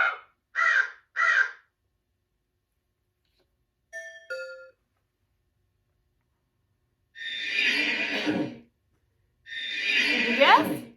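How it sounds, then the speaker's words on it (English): A crow caws in three quick, harsh bursts, then gives longer raspy calls after a pause. A brief bright chime sounds between them, all fairly clear against near silence. "That's a crow."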